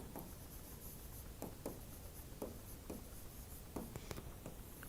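Teacher writing on a board during an economics lesson, faint scratchy strokes and soft taps repeating at an irregular pace, quiet and alone with low background noise.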